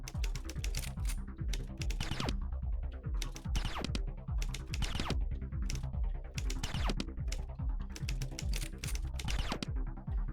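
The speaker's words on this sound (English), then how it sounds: "I knew I was going to have to type that one again" Fast typing on a computer keyboard during a typing video game: steady bursts of crisp clicking keystrokes, close and fairly quiet, with short rhythmic pauses between words.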